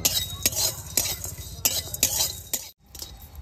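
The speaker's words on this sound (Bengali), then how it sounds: "এবারে কাঠকোলাতে হালকা করে ভেজে নেব" Nutmeg and dry ginger dry-roasted in a pan, a metal spatula scraping and clinking against the pan in repeated strokes, close and fairly quiet, ending in a brief pause.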